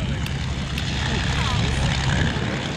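A vintage triplane or biplane takes off at full power at the Sywell Airshow, its engine a loud, steady, unbroken roar that fills the whole moment.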